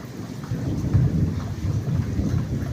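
Steady Gujarat monsoon rain with low rumbling thunder rolling underneath, a continuous heavy wash of sound with no voices.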